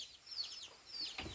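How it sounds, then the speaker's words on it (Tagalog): Chickens kept at a home in a Bisaya community cluck softly and briefly, faint and somewhat distant, with no one talking. "So marami pala silang manok din dito ng mga Bisaya."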